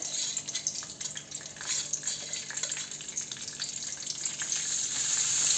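Mashed cooked dal goes into a frying tempering, and the oil sizzles and crackles steadily. The sizzle swells louder toward the end, with a few soft stirring scrapes underneath.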